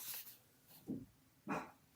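Dogs indoors at home bark a few times, two short, faint, muffled barks spaced apart against a quiet room, heard from some distance.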